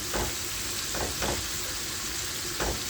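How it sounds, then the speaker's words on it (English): Pepper and callaloo sauté in a pan with a loud, continuous sizzle, broken by a few short scraping stirs. "So yes, I leave this to carry on to saute just the same"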